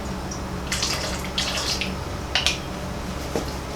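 Liquid coffee poured into a container for a primitive grunge craft mix, giving light splashing and dripping bursts over a faint steady background.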